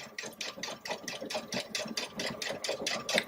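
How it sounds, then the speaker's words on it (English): A Baby Lock Solaris sewing machine backstitching at the edge of fabric runs in a fast, even mechanical rhythm of rapid stitches, close and steady with no talk. "Backspace at the edge there to reinforce your stitches."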